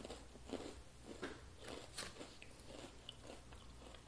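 Close, quiet biting and crunching of an Oreo sandwich cookie, several crisp bites followed by steady chewing with no talk.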